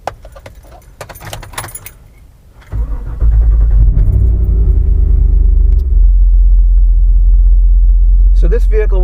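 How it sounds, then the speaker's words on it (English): Keys jangle, then a GM L86 6.2 V8 in a manual 2012 Jeep Wrangler Rubicon cranks and catches on a wet, cold morning, settling into a loud, steady, deep idle rumble that runs to the end. "So let's do a cold start on this L86 on this wet,"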